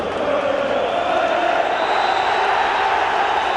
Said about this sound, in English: The celebrations have already started among Turf Moor's biggest crowd of the season.